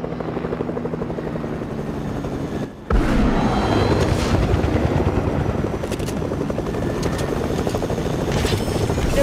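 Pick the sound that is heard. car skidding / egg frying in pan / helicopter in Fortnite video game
helicopter in Fortnite video game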